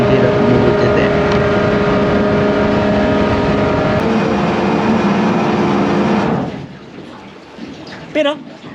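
Toyota 1UZ V8 engine in a boat held at full throttle, a loud steady harmonic drone for about six seconds before it cuts back sharply, followed by quieter splashing and a brief burst near the end.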